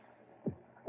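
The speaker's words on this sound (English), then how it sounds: "that noise you hear is his heart" Two deep, muffled thumps of a heartbeat, the second arriving just as the clip ends, low and soft against a faint hum.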